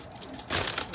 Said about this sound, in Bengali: এটাও কালেকশন করা কবুতর।